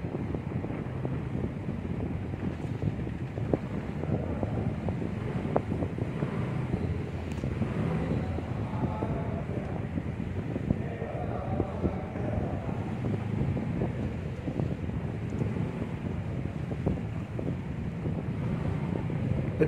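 Fishing boat engine running at sea in strong wind while heading out to catch seer fish, a steady low rumble heavily buffeted by continuous wind noise, with no voices.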